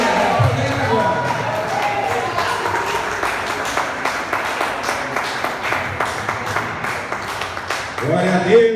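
A church congregation claps in a steady, even rhythm, loud and close, with voices rising near the end.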